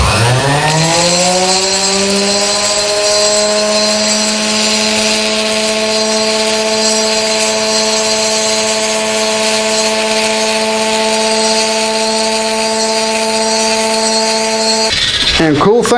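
A power tool with a rotary bit spins up and holds a high, steady whine while porting a 2-stroke motorized bicycle engine, loud and close, then winds down near the end.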